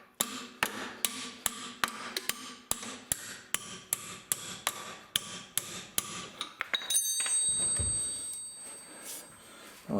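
Sharp, evenly spaced hammer blows strike an open-ended wrench on an axle bolt during a Ford 8.8 axle swap, about a dozen close metallic hits, then a brief clatter and shuffling.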